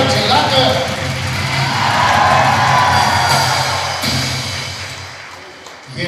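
Crowd at a church gathering cheering and shouting, a broad sustained roar of many voices that swells and fades across the moment, with scattered whoops rising above it.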